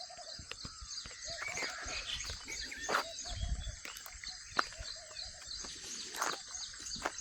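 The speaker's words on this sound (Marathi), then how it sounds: "बघा तुम्ही पक्ष्यांची किलबिलाट" Birds chirping and calling in the calm early morning of a village, a steady chorus of near and distant tweets with a faint insect hum beneath, no talking.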